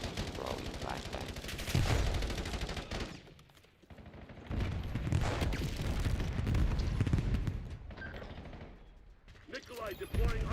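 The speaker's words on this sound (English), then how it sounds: "Throwing flashbang." Continuous loud combat noise from Black Ops 7 as a flashbang grenade is thrown, with blasts and gunfire swelling and dipping throughout, while a voice speaks under the din.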